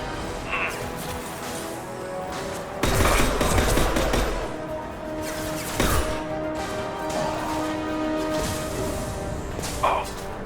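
Gunfire in the video game Mass Effect 2 rings out in bursts over a steady background hum of game ambience, with a heavier volley in the middle and scattered sharp shots around it.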